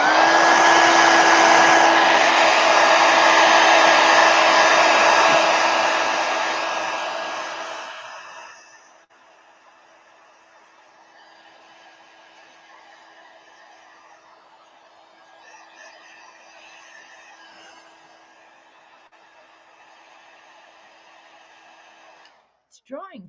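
A hair dryer blows loudly and steadily on a watercolor painting for several seconds, then fades to a quieter, more distant hum as it moves away, before cutting off with a brief clunk at the very end.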